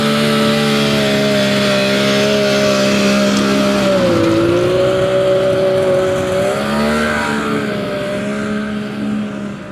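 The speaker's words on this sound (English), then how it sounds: "That first cold start, Patti don't like to move much." A race car engine idles loud and close just after a cold start, holding a steady rumbling drone that sags once and then recovers while it warms up.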